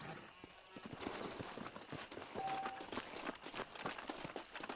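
Horses' hooves clip-clopping through a canyon in the video game Red Dead Redemption, a brisk continuous patter of footfalls at moderate level with a brief whinny-like tone.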